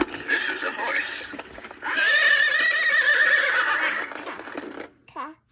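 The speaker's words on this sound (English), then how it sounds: "This is a horse." A horse neighs in a long, loud whinny lasting several seconds, close and clear, trailing off at the end.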